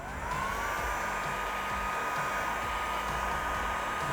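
Heat gun running on low while heating vinyl wrap on a Tesla Cybertruck, a steady close blowing whir holding level throughout with no talk.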